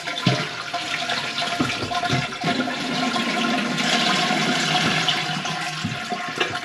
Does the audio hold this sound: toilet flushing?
yes